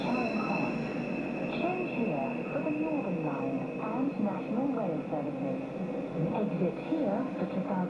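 Bakerloo Line underground train in Train Sim World 2 running steadily, with a constant rumble, high whining tones and shifting squeals throughout, and a voice talking over it.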